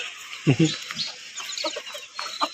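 Native hens on a small farm cluck nearby in short, irregular bursts, with a couple of louder calls at the start and softer clucks following.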